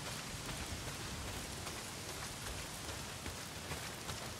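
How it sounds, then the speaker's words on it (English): Heavy rain pours steadily in the open-world zombie game Days Gone, a dense, even hiss of drops on surfaces that stays loud and unbroken throughout with no voices. "Well, not if it's pissing down rain."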